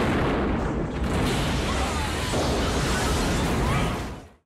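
Explosion from an action film with Mickey Rourke and Jean-Claude Van Damme: a sustained, loud, full-spectrum blast roar with crackling debris that holds steady, then fades out abruptly at the end.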